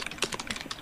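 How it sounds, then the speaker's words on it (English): Rapid typing on a computer keyboard, a quick run of close, crisp key clicks in an uneven rhythm, with no voices over it. "And all the typing better sounds so different."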